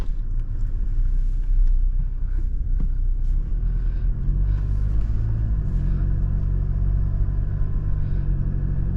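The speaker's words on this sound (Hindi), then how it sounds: "इसकी डीज़ल इंजन की वाइब्रेशन है, जो पहले से बहुत ज़्यादा कम कर दी गई है" Steady low diesel rumble from a Toyota Revo 2020 pickup's 2.8 L diesel engine, a constant idle drone with faint vibration and no voices.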